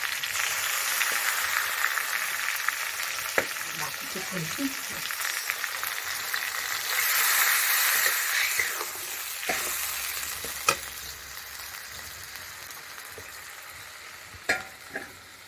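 Onion, tomato and bitter gourd paste frying in a pan, a close, continuous sizzle that swells and fades, broken by occasional clacks of a spatula stirring against the pan.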